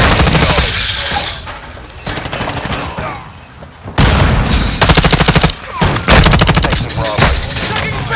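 Gunfire in Call of Duty: Modern Warfare 2, with loud, close automatic bursts and rapid shots coming in uneven waves over dense battle noise, while voices speak underneath.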